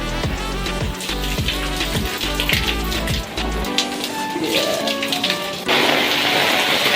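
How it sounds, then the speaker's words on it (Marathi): Heavy downpour roars loudly and steadily, with thumping taps early on, some scattered clatter, and the rain swelling louder toward the end. "पडतो एवढा जरा मुसळधार पाऊस"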